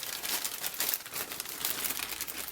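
Plastic bag of chrome parts from a 1957 Chevy Bel Air AMT 1/25 scale model kit being cut open, heard as close, quiet crinkling and rustling of thin plastic.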